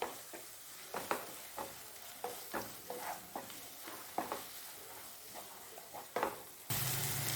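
Ginger garlic paste sautés in a pan for hotel-style chicken gravy without coconut: a soft sizzle under repeated rhythmic scraping strokes of a spoon stirring about once a second, then a louder burst of frying at the end.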